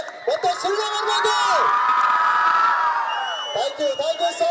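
A crowd of fans at an Upendra movie promotion event in Hubballi whoops and cheers loudly, a sustained roar of shouting voices that swells and then fades, with scattered yells and clapping.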